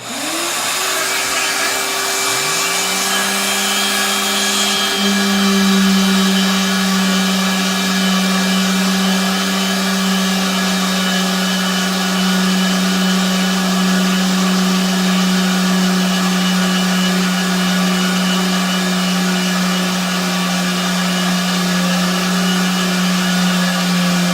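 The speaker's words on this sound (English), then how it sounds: "So I'm going to start my shop vac." A shop vacuum starts up and settles into a loud, steady whine and roar that runs on without pause.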